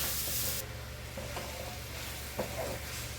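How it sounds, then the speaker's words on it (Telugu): A spoon stirs sugar syrup in a pan on the stove over low heat, a soft steady scraping and bubbling with a few louder knocks. No one speaks. "స్టవ్ను సిమ్లోకి పెట్టుకొని తిప్పుకుంటూ ఎక్కడ అడుగు పట్టకుండా పాకాన్ని ప్రిపేర్ చేసేసుకోవడమే"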